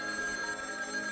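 In a Bengali cartoon, a telephone rings with a steady, high, bell-like electronic tone that holds evenly throughout the brief moment, with no talking over it.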